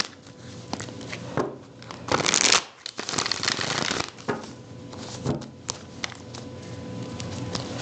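A deck of oracle cards is riffled and shuffled in several quick bursts, close and crisp, with soft handling noises between shuffles and no talking.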